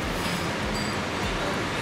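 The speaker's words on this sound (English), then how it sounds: "We sit in a train station" Train station ambience with a constant dense wash of rail and crowd noise, trains rumbling low and steady throughout.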